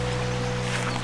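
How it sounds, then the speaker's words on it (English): Inside a Subaru Forester, a small electric water pump hums steadily for about a second, a constant tonal drone close by with no other sounds. "I hear my pump is running"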